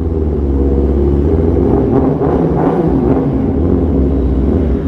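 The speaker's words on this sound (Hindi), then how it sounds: "ये वाला जो एग्जॉस्ट है ये सुन के तो मेरे खुद के कान फट गए" 2017 Kawasaki ZX10R superbike with an Austin Racing exhaust revving inside a tunnel, a loud booming engine drone that swells in a few revs and echoes throughout.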